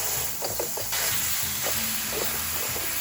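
Ground beef frying with onions in a pan gives a steady close sizzle with soft crackles and occasional stirring scrapes throughout, and no one speaks.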